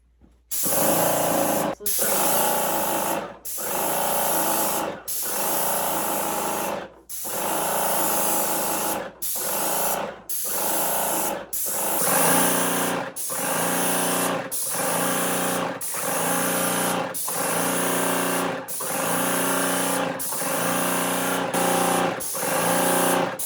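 A Wagner Control Pro 130 paint sprayer runs in long, loud hissing bursts, each spray pass separated by short pauses in a steady side-to-side rhythm, close and with no talking.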